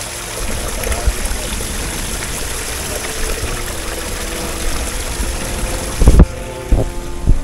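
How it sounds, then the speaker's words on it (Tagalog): A roadside waterfall on a cool mountain road pours as a steady broadband rush, with wind buffeting the microphone throughout and a few sharp knocks near the end. "meron tayong nakita na falls, or dito sa amin tinawag itong kubot"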